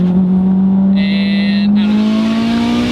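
A tuned Mitsubishi Evo X easing around a bend, its engine droning steadily with pitch slowly rising, loud and close from inside the car, with a brief high whine partway through.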